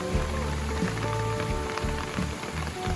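Steady rain pours down in the middle of the rainy season, a dense, continuous hiss of drops striking surfaces, close and even throughout with no voices.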